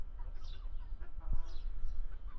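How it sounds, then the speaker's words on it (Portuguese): A hen clucks softly nearby with a few short, low calls over faint background noise. "A galinha que vocês tanto precisam que comentem, que querem ver o vídeo dela, está aí."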